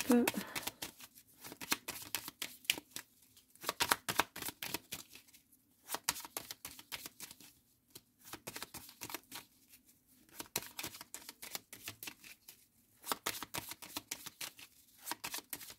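Tarot cards are shuffled by hand close up, making repeated bursts of brisk papery riffling and flapping separated by short pauses, in a steady rhythm of several rounds.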